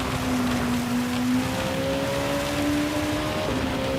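Touring car engines racing on a wet Spa-Francorchamps track in a racing video game: a loud, sustained engine drone with a rising whine that climbs through gears and then drops, under a constant hiss of spray.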